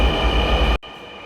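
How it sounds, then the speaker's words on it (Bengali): Dhaka metro rail train arriving at an elevated station, a loud steady roar with a high tonal whine that cuts off abruptly partway through, leaving quieter background. "এই যে অলরেডি একটা ট্রেন চলে আসছে"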